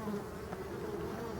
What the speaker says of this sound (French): Donc il y a un petit peu de frelons ici.